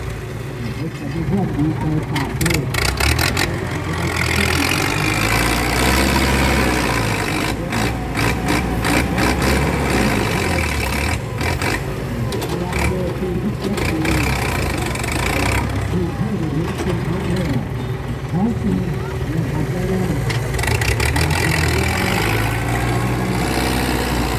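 A heavy Ford 6640 tractor engine rumbles steadily and loudly throughout while pushing sand, low and continuous with shifting mechanical clatter.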